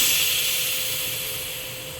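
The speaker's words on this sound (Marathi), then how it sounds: "आपण ही वाफ काढून टाकायची आहे अशा पद्धतीने" A loud, continuous hiss of steam rushing out of a pressure cooker after the gas is turned off, heard close by and slowly easing off.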